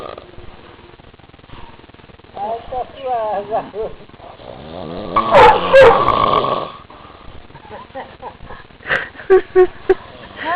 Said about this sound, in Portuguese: Ó, que ronca.